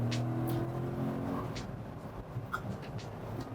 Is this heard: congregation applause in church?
no